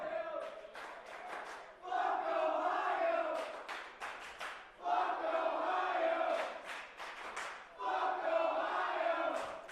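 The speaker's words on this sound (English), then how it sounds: "Crowd chanting Buck, Ohio." A wrestling crowd at an indoor show in Pittsburgh chants in loud, rhythmic bursts, three rising waves of unison shouting separated by brief lulls.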